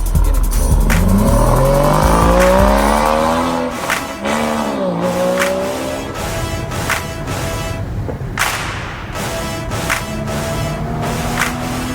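Car driving during a lesson with a driving instructor, engine note rising and falling with revving and possible tire squeal, loud and close throughout with no talk.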